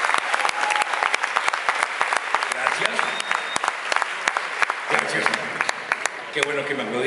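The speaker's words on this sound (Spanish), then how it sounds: "qué bueno que me aplaudieron" Studio audience applauds a voice actor during a live show, a dense, steady wash of clapping that runs the whole time with sharp individual claps standing out and a voice speaking over the last couple of seconds.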